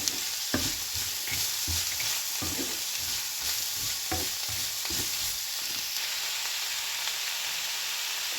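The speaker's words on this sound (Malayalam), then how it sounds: "ഇതിൽ ഈ എണ്ണയിലൊന്ന് വഴറ്റിയെടുക്കണം" Chopped onion and green chili sauté in oil for a Kerala-style onion thoran, a constant close sizzle marked by rhythmic scraping strokes of a spoon stirring through the pan again and again.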